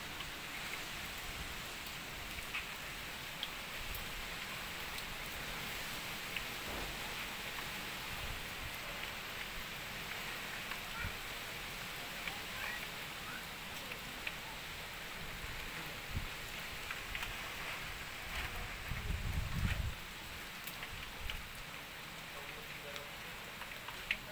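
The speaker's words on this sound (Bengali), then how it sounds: "কি জোরে জোরে বৃষ্টি হচ্ছে বাইরে" Steady heavy rain hisses outside during an expected storm for the whole stretch, a dense continuous wash with a few faint voices and small bumps underneath.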